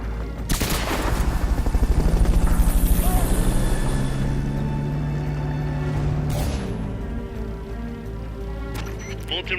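A helicopter rotor in the Metal Gear Solid Peace Walker video game beats steadily and loudly for several seconds, layered with game effects and a brief burst near the end.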